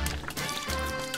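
Lemon oil and yellow coloring pour into a bowl for handmade soap, a short continuous liquid trickle with soft splashy texture over a low background hum, close and moderately quiet, no talking.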